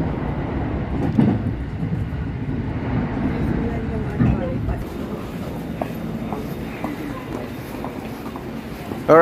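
A train at Kyoto Station gives off a low, steady rumble and hum, with occasional clanks and a brief squeal, heard amid station ambience and people talking.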